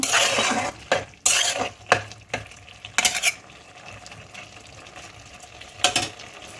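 Chopped bottle gourd is stirred with salt in a pan, with repeated scraping strokes and clinks of a spatula against the metal over a soft sizzle, coming in several distinct bursts close up.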